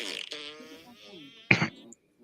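An Alexa smart speaker plays a short, loud fart sound effect, a sudden burst following a stretch of voices and laughter in a room, then silence.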